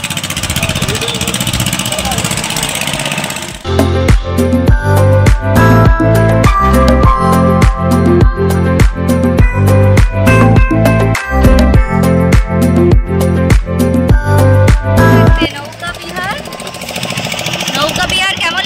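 A motor boat engine on a boat ride at Digha chugs loudly in a fast, steady rhythm for most of the stretch, starting abruptly and cutting out near the end, with talk before and after.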